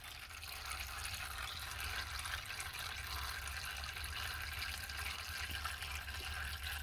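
Transmission fluid from a Ford Taurus pan drains in a steady, continuous stream, a soft even splashing hiss with no pauses and no talking.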